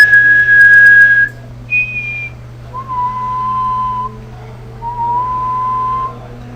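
A person whistles into a microphone: a high held note, a short higher one, then two long steady lower tones, each pure and close, with a constant low electrical hum underneath.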